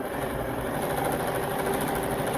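A sewing machine runs steadily during free motion quilting, its speed held constant by a regulator set to level one, giving a continuous, even mechanical drone with no talking.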